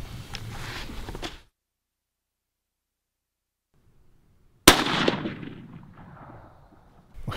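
Rifle shots fired while checking scope zero, with two loud sharp reports separated by a long silent gap, the second followed by a rolling echo that slowly fades.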